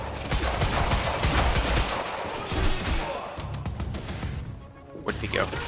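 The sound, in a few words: gunfire from the video game Quantum Break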